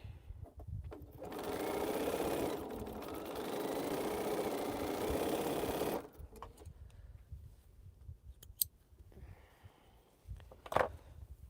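A sewing machine joins quilt rows made of Roll Roll Cotton Boll fabric blocks in one sustained close-up run of steady motor hum and needle clatter, followed by quiet fabric handling and a few sharp clicks.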